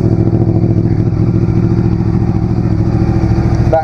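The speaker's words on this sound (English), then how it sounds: "You could hear the automatic cam chain tensioner rattling there." A Yamaha R1 motorcycle engine idles loud and close, with a steady mechanical rattle from the automatic cam chain tensioner running low on oil, continuous throughout.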